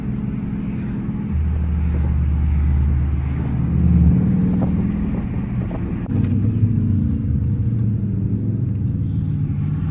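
A Dodge Charger R/T widebody Hellcat with a 6.2 liter V8 drives at night, its engine giving a steady deep rumble from inside the car, swelling and settling with the throttle.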